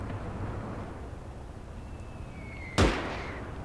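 A single sharp mortar impact explodes in the World War II strategy game Gates of Hell, a loud broadband blast that rings out and decays over steady low battlefield rumble, with no talk.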